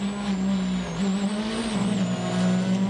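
A Mini John Cooper Works WRC rally car at full throttle on a special stage, engine droning high and steady with small pitch shifts, loud and close.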